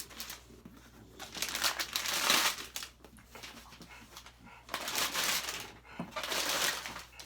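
Pretty paper wrapping crinkling and rustling close up while a doll body box is unboxed, coming in several bursts with quieter handling between them.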